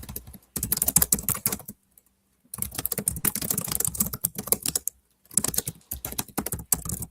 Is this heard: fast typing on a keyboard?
yes